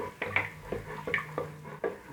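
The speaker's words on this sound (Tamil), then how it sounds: "இப்போ நம்ம மத்த வச்சு நல்லா குழைய மசிச்சு விட்டுப்போம்." Cooked dal being mashed in a pot with a wooden masher for hotel-style tiffin sambar: a steady run of soft, squelchy strokes and knocks against the pot, close and fairly quiet, with no talking.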